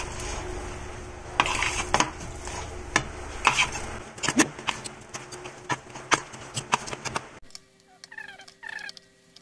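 Banana ball batter mixed with coffee, choco and other ingredients, stirred in a bowl with repeated scraping and clacking strokes, close and fairly loud, stopping near the end where a faint voice is heard.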